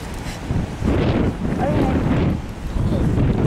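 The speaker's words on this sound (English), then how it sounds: "It's windy" Gusty wind buffets the microphone in loud, rumbling waves in a cemetery in Roswell, with brief voices faintly mixed in.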